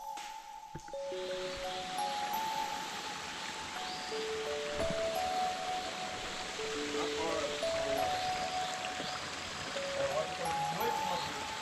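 A waterfall and stream on a hike near Rio de Janeiro pour steadily, a broad constant rush of water filling the whole clip, while scattered high tonal sounds come and go over it.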